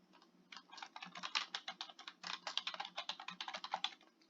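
Rapid, steady typing on a computer keyboard, a continuous run of close, crisp key clicks at a quiet level with no voices.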